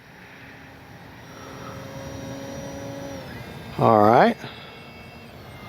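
Small RC model airplane motor in flight, a thin steady whine at a distance that rises and falls with throttle, with a brief loud nearby voice cutting in partway through.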